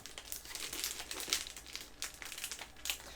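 Plastic shrink wrap being peeled and torn off a new book, a continuous run of close crinkling and crackling with sharper snaps scattered through, with no talking.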